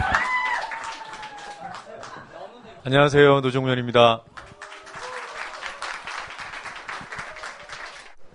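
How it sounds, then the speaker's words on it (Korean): An audience at a media cooperative's annual general assembly claps to welcome a speaker, a dense patter of many hands that pauses while a man briefly greets them, then resumes and carries on. "박수로 환영해 주십시오."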